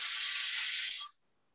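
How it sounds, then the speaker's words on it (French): A steam cleaner releases a steady, bright hiss of steam for about a second before cutting off abruptly into silence. "à l'aller, donc on met la vapeur et au retour, on sèche"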